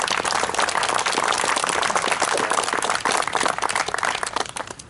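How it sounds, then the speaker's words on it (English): An audience applauds CLIA members at a resort hotel's 101st anniversary celebration, a dense, loud wash of clapping that holds steady for several seconds. "So please, a round of applause for CLIA"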